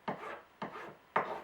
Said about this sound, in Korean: 그리고 줄은 밀 때 갈린다